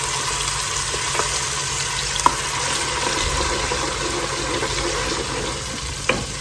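Ground spice paste of pepper, fenugreek, turmeric, onion and garlic meeting a hot pan for fish curry, a steady soft sizzle and hiss with a couple of faint clicks, no talk.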